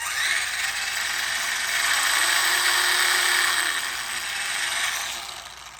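Brushed electric motor of an FMS FCX18 Ford Bronco RC crawler running at speed, a steady high whine with a slight rise and fall in pitch, close and continuous without talk.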